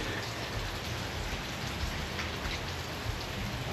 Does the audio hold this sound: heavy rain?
yes